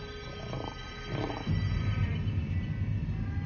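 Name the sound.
male lion attack bark and coughing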